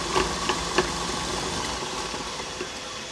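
A stand mixer whips egg whites and sugar for a walnut biscuit, speeding up slightly. Its motor gives a steady close hum, with a few light clicks and knocks early on.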